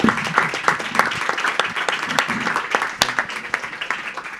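Close, lively audience applause at an architects' association talk, with many distinct hand claps standing out sharply above a dense, steady wash of clapping for the full length.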